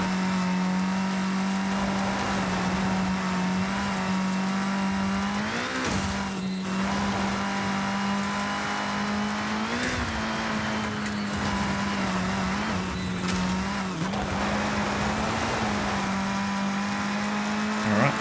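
A rally car tears along a Japanese rally route in Forza Horizon 6, its engine holding a loud, steady drone with brief pitch shifts at gear changes and a few tire scuffs, continuous and close throughout.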